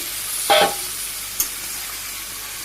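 Chicken stirred in a pan after a little water goes in, with a soft continuous sizzle in a village kitchen, broken by a brief scrape of the spoon and a couple of faint clinks.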